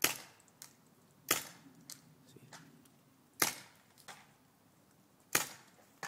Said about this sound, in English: See, you hear? He's shooting,